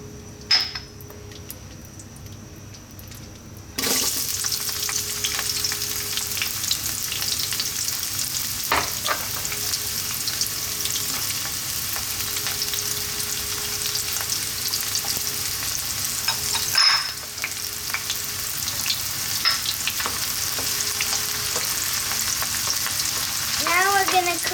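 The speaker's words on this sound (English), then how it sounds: "Okay, so now we have the olive oil in the pan, and I'm gonna put the onion and the garlic." Onion and garlic hitting hot olive oil in a pan for a mushroom cream pasta: quiet at first, then a sudden loud burst of sizzling that settles into a steady hiss with occasional stirring clinks and pops.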